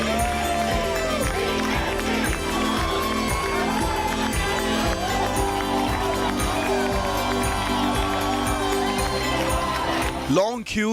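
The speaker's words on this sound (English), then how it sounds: "Staff in green cheering Apple's first Indian store before it opened for customers" Green-clad staff cheer and shout together outside Apple's first Indian retail store at Bandra Kurla Complex, Mumbai, before its opening, in a loud, continuous crowd roar with rhythmic chanting and clapping, rising to a burst near the end.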